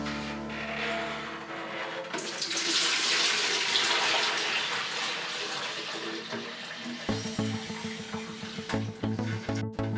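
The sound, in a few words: water filling a graduated bucket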